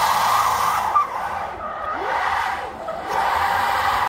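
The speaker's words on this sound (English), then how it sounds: "Their business is taking Tesla motors, reconfiguring them with a different gearing, and then destroying some perfectly good tires." Electric car fitted with re-geared Tesla drive units spinning its tires, a loud, continuous skid and screech of rubber with motor whine rising and falling over a few seconds.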